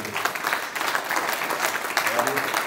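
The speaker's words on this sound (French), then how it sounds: "Est-ce qu'on pourrait juste applaudir l'équipe technique" An audience applauds a technical team in a sustained burst of many hands clapping evenly throughout, fairly close and moderately loud, with some voices mixed in.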